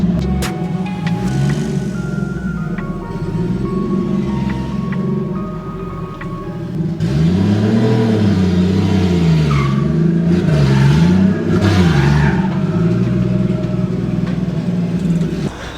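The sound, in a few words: RB20DET 240sx engine running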